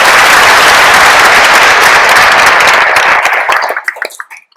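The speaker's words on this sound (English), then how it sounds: "So let's give them a round of applause for that" Loud, dense applause from a graduation ceremony audience. It sounds like many hands clapping at once, close and continuous, then breaks into scattered individual claps and dies away over the last second.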